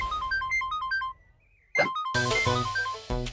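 A phone ringtone plays a bright repeating melody, pauses briefly, then resumes louder and fuller, close and clear.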